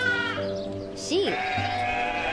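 A sheep bleats in a few wavering, quavering cries, close and clear over a faint steady background hum.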